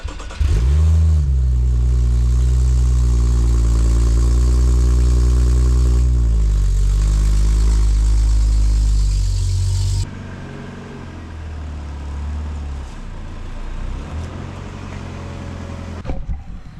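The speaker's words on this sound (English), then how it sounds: "Let me go ahead and move this car out and then move this out." A drift car's engine turns over and revs loudly up close, holding a steady rumble before easing down to a quieter idle as the car is moved.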